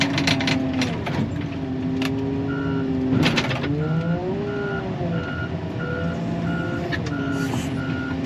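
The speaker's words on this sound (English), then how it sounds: "Pick out what I want with the excavator." An excavator works nearby, its reversing alarm sounding as a steady run of evenly spaced beeps over the rumble and clatter of heavy machinery, with a few sharp metallic knocks.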